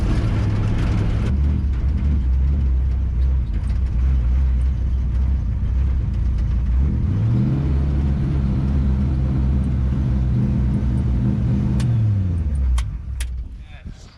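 A 1966 Chevrolet K20 4x4 truck cruising on a gravel road at about 25 mph, a loud, steady engine drone and tire rumble with a rising engine note midway, fading near the end.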